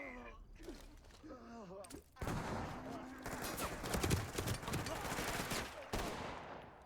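Shotgun blasts in a tactical shooter on the Sinuous Trail level at hard difficulty. A voice speaks briefly at the start, then loud, dense bursts of gunfire follow continuously, close and harsh, with a short break near the end.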